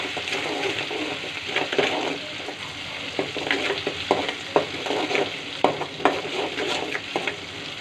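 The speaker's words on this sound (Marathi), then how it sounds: "मस्त त्याला तेल फ्राय करून घ्यायचं" Ginger-garlic paste and vegetables fry in hot oil for homemade pav bhaji, a steady close sizzle broken by frequent scraping and clicking stir strokes from a spoon in the pan.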